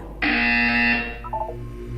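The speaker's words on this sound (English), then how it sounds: "You will hear a buzzer." A loud, harsh electronic buzzer from the Portal 2 video game sounds once for about a second, then tails off into softer tonal blips over a low hum.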